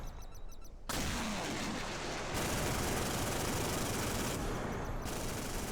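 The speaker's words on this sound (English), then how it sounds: "You can see the autocannons going to work on that ship." Autocannons on a warship in the naval combat game Modern Warships fire in a dense, continuous roar of rapid shots that starts abruptly and keeps going, loud and close, with no talking.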